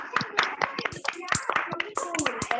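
A few people clap unevenly on an online video call, scattered distinct hand claps in irregular bursts, mixed with talking voices and a voice over the line.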